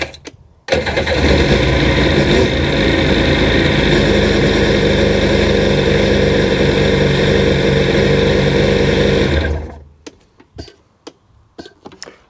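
A Sea-Doo jet ski engine with worn, unhealthy bottom-end bearings starts and runs loudly and steadily for about nine seconds, then cuts off, leaving a few faint knocks and clicks.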